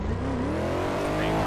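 Drift car engine revving on feathered throttle in the ATSV Pro FD drift car of a racing game, a loud continuous rising engine note with tire noise, steady throughout with possible faint talk underneath.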